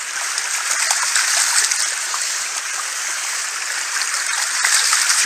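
A bucket is rinsed in a flowing stream while gold panning in Wicklow, the water rushing and splashing continuously up close with bright, churning spatter and no talking.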